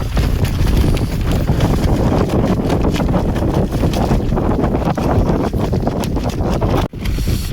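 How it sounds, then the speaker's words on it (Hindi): Strong wind at a high-altitude mountain pass campsite in Ladakh, snow around, roars steadily into the microphone with heavy low buffeting and gusty rushing, loud and constant throughout, with a brief dropout near the end. "इतनी तेज़ हवा में"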